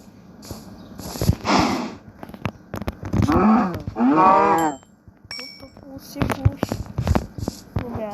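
A cow in the Minecraft video game lets out several low, drawn-out moos in close succession, loud and near, mixed with game sounds and a person talking in between.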